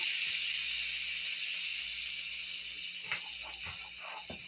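Cabbage sizzling in hot grease gives a constant bright hiss, with a few soft clicks and pops toward the end.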